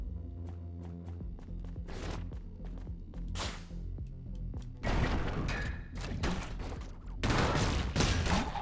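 Multi-grenade launcher firing in the sci-fi shooter game Orbital Bullet: rapid sharp launches and bursts of explosions in clusters, loud and punchy, with denser volleys near the end and no voices.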